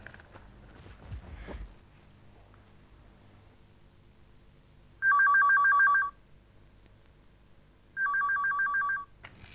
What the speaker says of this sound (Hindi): फोन कर रही हूँ।